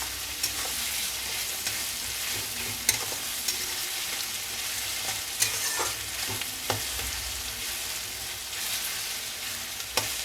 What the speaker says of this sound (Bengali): ভাজা হয়ে গেলে তার মধ্যে আমি মাংসটা দেব।